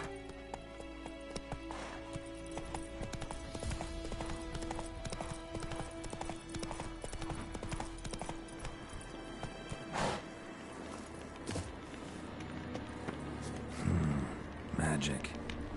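Rhythmic hoofbeats of a galloping horse in The Witcher 3: Wild Hunt, steady clip-clop under game music and effects, with a short whinny near the end; a voice speaks briefly.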